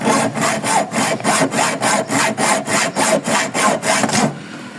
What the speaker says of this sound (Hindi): मैंने सोचा कि फिर आरी से काट लिया जाए